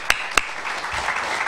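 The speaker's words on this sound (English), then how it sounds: "Let's give him a round of applause." Applause at a customs training course closing ceremony: two sharp, close claps open it, then softer scattered clapping from a small audience continues at a moderate level.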